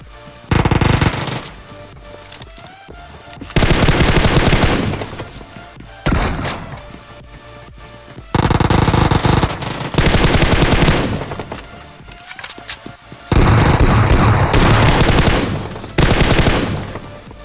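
Loud bursts of automatic gunfire and pistol shots from a battle royale video game firefight, arriving in repeated heavy volleys separated by brief quieter gaps, with no talking.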